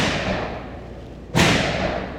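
A single sharp gunshot from a PTR HK-pattern rifle fired with iron sights, one sudden loud crack cutting through steady background noise at an outdoor range.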